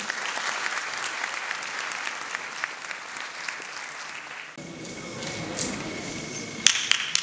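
Sustained audience applause at a cemevi gathering, a dense wash of many hands clapping that continues for several seconds, then thins out with a few sharper claps near the end.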